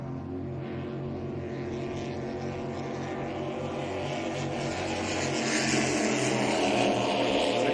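Offshore superboat racing past on Lake Macquarie, a loud, steady, throaty engine roar that swells gradually as the boat draws nearer, with no talk over it.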